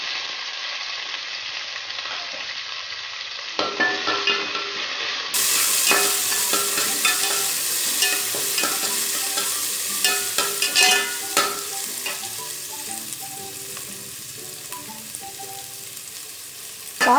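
Ten to fifteen finely chopped small onions sauté in hot oil with mustard seeds and curry leaves for a cabbage poriyal, crackling in a loud, continuous sizzle broken by the scrape of stirring, with no voices.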